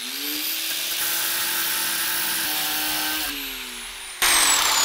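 Power tool cutting partway through a floating dock float: a steady, loud high-pitched whine for several seconds that drops in pitch and then cuts off, followed by a brief burst of noise.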